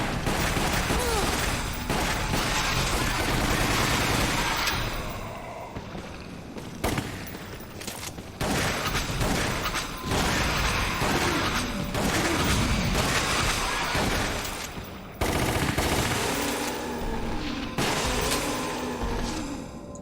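Sustained gunfire in the Resident Evil Umbrella Chronicles rail shooter, dense continuous volleys and booming shots with short breaks, loud and close, mixed with game effects and music.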